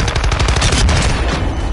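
Loud, close Warzone 2.0 gunfire: rapid automatic bursts rattle continuously, with sharp repeated shots packed tightly together throughout.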